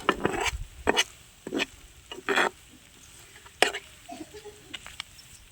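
Onions and egg are mixed together by hand for a village-style egg roast, with short, wet squelching and rubbing bursts that come in an irregular rhythm, close and fairly soft.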